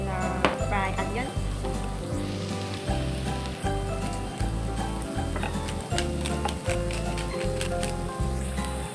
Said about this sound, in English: I'm gonna put pepper and salt a bit in fried onion.